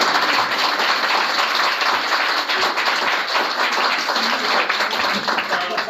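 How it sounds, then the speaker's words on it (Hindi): Loud, dense applause from a large seminar audience welcoming first-time new members, a steady wash of many hands clapping that holds for the whole stretch without a break. "एक बार जोरदार तालियां इन सभी साथियों"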